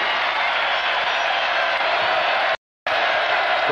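Home crowd cheering and roaring at a college basketball game between Oklahoma State and Texas A&M, loud and dense throughout, cut by a brief dropout near the end.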